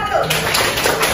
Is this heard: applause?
yes